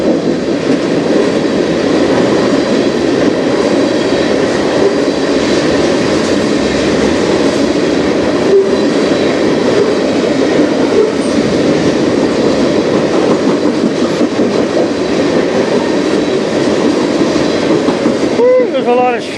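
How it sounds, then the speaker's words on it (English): A CN freight train with tanker cars rolls past on the Strathroy Subdivision, a loud continuous rumble and clatter of wheels on rail that holds steady, with a brief squeal near the end. "Tankers on this train."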